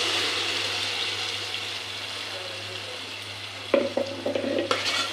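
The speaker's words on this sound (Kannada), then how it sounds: "ಈರುಳ್ಳಿ ಚೆನ್ನಾಗಿ ಬೆಂದೈತೆ ಇವಾಗ ನಾನು ಮಸಾಲ ಆಡಿಸಿದ್ನಲ್ಲ ಅದನ್ನು ಹಾಕೋತೀನಿ" Ground masala paste being fried with softened onions in a pan, a steady low sizzle that turns into scraping, clattering stirring strokes toward the end; no speech.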